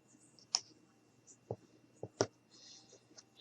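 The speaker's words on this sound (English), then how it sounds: "And I am going to cut here." Scissors snipping through material while cutting a piece for a Kool-Aid container puppy craft, a few sharp isolated clicks spaced apart in an otherwise quiet room.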